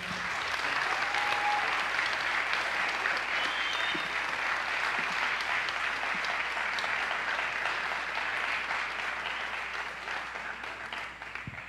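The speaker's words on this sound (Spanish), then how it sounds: "Otro aplauso, por favor." Sustained audience applause at a conference session, steady dense clapping from a large crowd lasting several seconds at even loudness before tapering slightly toward the end.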